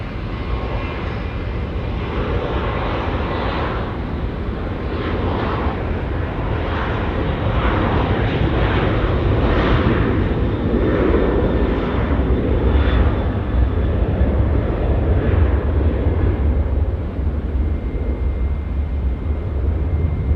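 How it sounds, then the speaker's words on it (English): A Qantas jet, flight 148, at Auckland Airport takes off at full power, its engines a loud, sustained roar that builds and holds throughout, pulsing slightly as it climbs away. "Full beans for the Qantas 148 with split skimmies as well."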